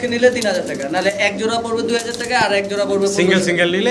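Pigeons coo in repeated soft, throaty phrases close by, with someone talking over them almost throughout.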